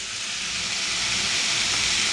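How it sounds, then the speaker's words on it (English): Bacon sizzling in a pan on a gas stove: a steady, bright, continuous hiss and crackle, close and even throughout, with no voices. "I know it's sizzling a lot"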